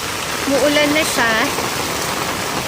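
Steady rain falls outdoors during a storm, a broad continuous hiss close to the microphone, with brief speech-like voices rising over it early on.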